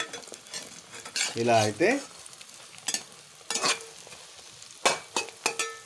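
Eggs frying and being stirred in a pan for restaurant-style egg fried rice, with close scraping and stirring strokes over a steady sizzle, broken by a few sharper utensil clinks; someone speaks briefly near the start.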